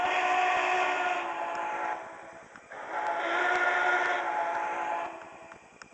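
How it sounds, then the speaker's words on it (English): Sound-equipped MTH HO scale Union Pacific Challenger 3985 model locomotive blowing its steam whistle, two sustained chime blasts with a short gap between them, moderately quiet against a steady electronic chuff underneath. "with the whistle, you can blow it just normally, or you can hit an A1 function and quill it."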